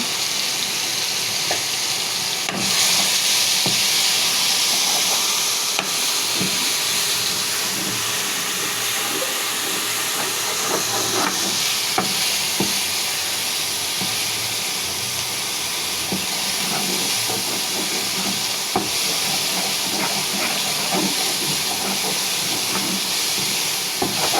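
Whole cinnamon, white cardamom and turmeric fry with ginger, garlic and onion paste in oil for a hilsa dish, giving a steady, dense, close sizzle throughout with occasional faint clicks and scrapes and no talking.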